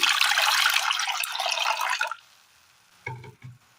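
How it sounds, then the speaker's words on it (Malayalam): Water pours steadily into a pot of curry for about two seconds, then stops, followed by a couple of soft clunks. "ഒരല്പം വെള്ളം ഒഴിച്ച് കൊടുക്കാം."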